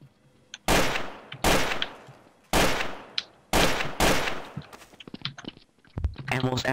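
Loud gunfire in the video game Trouble in Terrorist Town, several heavy close shots in quick succession followed by lighter rapid bursts and crackling, with players talking around them.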